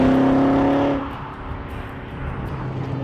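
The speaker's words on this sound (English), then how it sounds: "producing that wonderful soundtrack behind me, is BMW's S62 engine" A BMW E39 M5's 4.9-litre naturally aspirated S62 V8 hums with a steady tone for about a second, then settles into a lower, rougher rumble.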